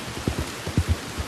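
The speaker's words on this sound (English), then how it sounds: "I haven't really seen it rain too much" Heavy rain in Red Dead Redemption 2 during a storm in New Austin, a steady hiss of downpour with a series of soft, low thuds recurring irregularly throughout.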